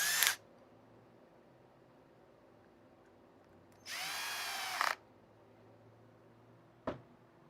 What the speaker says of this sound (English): Just screwing in some screws